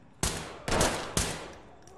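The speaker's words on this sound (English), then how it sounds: "I shot him." Three sharp gunshots ring out in Ready Or Not, spaced roughly half a second apart, each a loud broadband crack with a short decaying tail and no talking over them.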